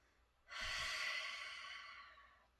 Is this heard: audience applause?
no